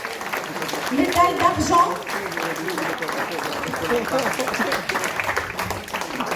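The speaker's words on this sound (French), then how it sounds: "On l'applaudit très fort." Audience applause for a 20-year-old worker receiving a silver medal at a workplace medal ceremony, with continuous clapping running under an announcer's voice and swelling slightly near the start.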